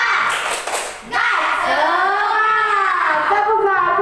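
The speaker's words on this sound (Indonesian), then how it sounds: "kita tepuk semangat dulu" A classroom of children does a short burst of rhythmic 'tepuk semangat' group clapping, then young voices take over and chant loudly together.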